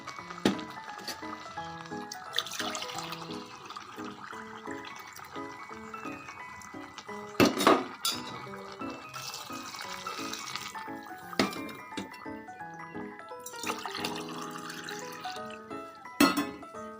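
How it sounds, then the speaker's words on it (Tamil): Water pours into a cooking pot of rice for a vegetable rice dish in uneven splashing bursts, set against steady background music. "இப்போ பாருங்கள் நம்ம தண்ணி ஆட் பண்ணிக்கலாம்."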